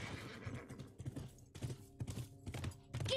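In The Last of Us video game, a horse whinnies while its hooves clip-clop in a quick, uneven rhythm, close and fairly loud, mixed with other game sounds.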